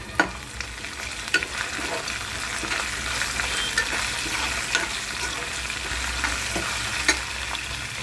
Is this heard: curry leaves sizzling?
yes